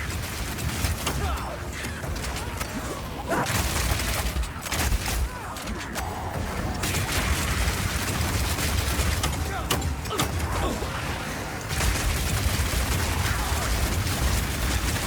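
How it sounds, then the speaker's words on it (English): A crossbow in the Path of Exile 2 video game fires explosive grenades, producing a constant dense wash of blasts, booms and battle noise that keeps going for the whole stretch, loud and busy throughout. "Now I've been using explosive grenades here"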